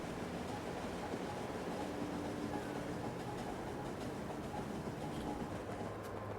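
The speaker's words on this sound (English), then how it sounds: "And these trains are fast." Trains running on rails in Factorio, a steady, dense rumbling rush with faint rhythmic clatter, continuous and fairly close, without any talk.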